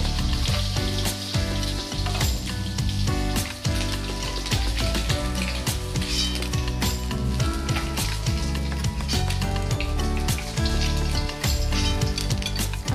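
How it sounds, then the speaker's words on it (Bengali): Pieces of shol (snakehead) fish fry until crisp and red in hot oil, turned over in the pan, with a loud, dense, continuous sizzle and crackle and occasional clatter from the turning. "মাছগুলো আমি ভালোভাবে উল্টে পাল্টে ভেজে নিলাম।"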